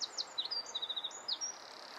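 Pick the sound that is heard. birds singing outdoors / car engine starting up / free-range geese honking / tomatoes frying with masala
birds singing outdoors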